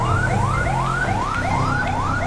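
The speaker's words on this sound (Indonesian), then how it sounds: "supaya cepat kita nyalakan sirine beserta strobonya teman-teman ya" Police car siren in GTA 5 on an Indonesian toll road patrol, a Toyota Hilux with strobes on, wailing loud and close in steady rising sweeps, about two per second, with no talking over it.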